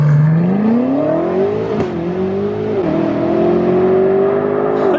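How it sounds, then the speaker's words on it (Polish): A tuned 825 hp BMW M8 Manhart accelerates hard, its engine note climbing steadily with short dips at gear changes, loud and close with no talk. "Teraz chcieliśmy wam pokazać, jak przyspiesza w rzeczywistości BMW M8 Manhard."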